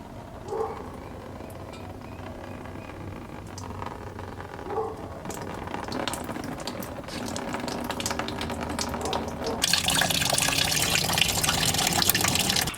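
Fluid drains from an engine and splatters onto metal railing, a steady wet trickling and dripping that grows denser and louder toward the end, with no voices.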